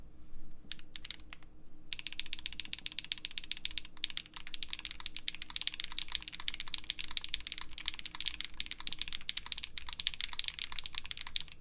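Typing on a Swift65 keyboard fitted with CRP keycaps and box-and-wedge stems: rapid, dense keystroke clatter, close and moderately quiet, running almost continuously after a brief start.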